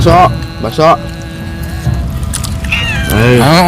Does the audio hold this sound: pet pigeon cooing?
no